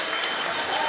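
A fight-night crowd at an SFL bout applauds steadily, a dense wash of clapping heard from within the arena.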